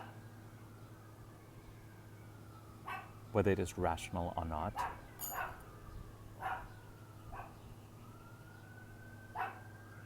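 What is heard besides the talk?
neighbor's dog barking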